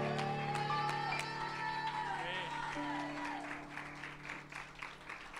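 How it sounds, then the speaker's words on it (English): A church congregation gives a hand clap of praise during a service, a burst of crowd clapping that rises under sustained organ or keyboard chords and lingering voices, fading into scattered claps toward the end. "Give him a hand clap of praise,"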